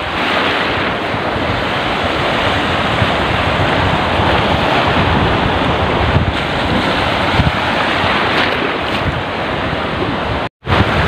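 Steady roar of sea waves and surf during strong monsoon wind at evening, loud and continuous, mixed with wind buffeting the microphone, with a brief dropout near the end.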